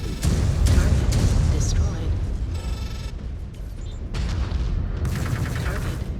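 LB2 autocannon fire in a mech combat video game, heavy booming shots and repeated blasts over rumbling battle noise, with a voice talking in between the salvos.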